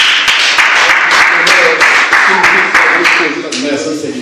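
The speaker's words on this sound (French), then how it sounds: "On acclame Jésus." A church congregation applauds together in dense, steady clapping that fills the space, with a few voices calling out over it before the applause thins toward the end.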